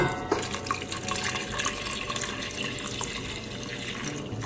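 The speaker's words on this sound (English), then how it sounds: "Let's add the milk." Milk poured into a Jell-O pudding pop mix makes a steady, close liquid splashing and trickling that runs unbroken for a few seconds.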